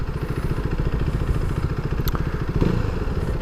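A single-cylinder KTM motorcycle engine runs nearby with a rapid, steady, chattering putter, loud and unbroken throughout, like a sewing machine.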